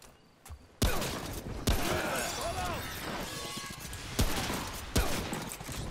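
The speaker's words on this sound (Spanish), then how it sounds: "se ha disparado de lejos" Distant gunfire in the video game Remnant: From the Ashes, a few sharp isolated shots cracking out over a busy ambient game soundscape with faint tonal calls drifting through.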